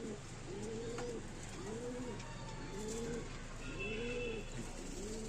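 A female pigeon with clipped wings coos in a slow, regular rhythm, five soft rolling calls against a steady background hiss.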